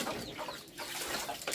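Chickens cluck in a brief, fairly faint burst of farmyard noise, with no one speaking.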